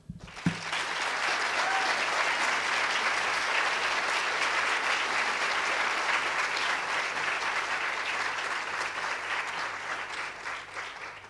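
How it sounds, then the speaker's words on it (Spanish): Loud, sustained applause from an audience, a dense, steady wash of clapping that carries on evenly for about eleven seconds. "vamos a recibirla con un fuerte aplauso"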